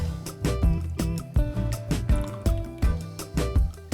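A spoon stirs a pot of enchilada soup with chilies, giving repeated wet slopping and clinking knocks about twice a second, close and fairly quiet with no talking.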